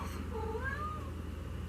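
A house cat gives a single drawn-out meow with a rising then falling tone, close and fairly clear over a low steady background hum.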